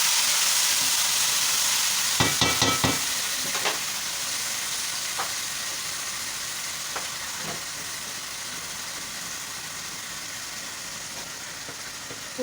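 An overnight-marinated mix of Kashmiri chilli, yogurt and garlic-ginger paste lands in a hot pan and sizzles loudly, with a few clatters and stirring knocks early on, then a steady frying hiss that slowly eases, close and without talk.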